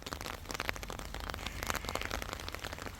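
Rain falls outdoors near a chicken and cow area, a soft, crackling patter of drops tapping on surfaces, faint and steady with scattered louder hits and no speech.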